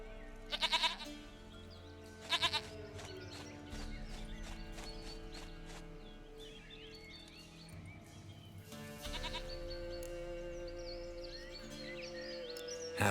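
In The Witcher 3, several goat bleats come at moderate volume alongside hoof clip-clops and other farm animal sounds.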